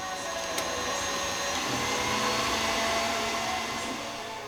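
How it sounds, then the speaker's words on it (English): A stand mixer with a whisk attachment whirs steadily as it whips 180 grams of very soft butter in the bowl, a constant motor drone running alone for several seconds. "Into the bowl of our stand mixer, I'm adding 180 grams of butter."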